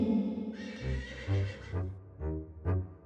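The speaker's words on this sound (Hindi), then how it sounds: "लेकिन तभी उसने एक घोड़े की आवाज सुनी।" A horse neighs loudly and close, a long shrill whinny followed by several shorter rising calls over a low rumbling background.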